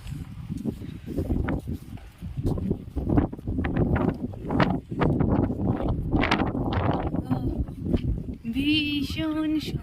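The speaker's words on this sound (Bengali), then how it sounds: "পেছন থেকে হাওয়া টানছে।" Wind roars and buffets the microphone in a continuous, gusty rumble on a motorbike ride through cold hills from Cooch Behar toward Lava near Kalimpong, and a voice briefly cuts in near the end.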